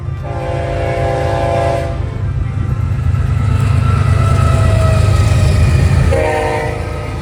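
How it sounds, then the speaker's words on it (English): Westbound BNSF Z train with an ST-70 locomotive, its horn sounding a long blast, then a pause filled with a steady heavy rumble of the passing train, then another blast near the end. "The train right after the intermodal was a westbound Z train with an ST-70 Ace riding out last on the head end"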